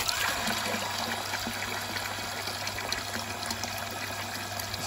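Water runs steadily from a tap during a flow rate test on a household plumbing system, a continuous close rushing stream without pauses.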